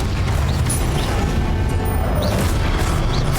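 Explosive Confringo spell blasts in Hogwarts Legacy: repeated booming bursts with sharp crackles and whooshes over dense battle noise, loud and up front.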